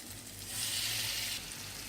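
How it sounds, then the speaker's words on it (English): Chicken sticks shallow frying in oil in a pan, a steady close hiss and crackle that swells briefly louder midway before settling back. "Add 2 tablespoons of oil and shallow fry the sticks until it's done."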